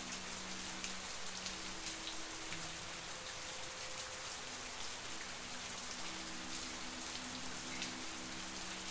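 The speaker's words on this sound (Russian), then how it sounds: "У меня такое ощущение, что дождик идет только у нас над башкой." Steady rain falls in the video game The Path, an even, close hiss of drops pattering continuously without pause.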